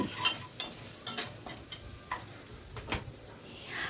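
A spoon stirs spice powders and salt through hot oil in a pan for dal tadka, making a series of scraping strokes over a soft, steady sizzle, close and fairly quiet.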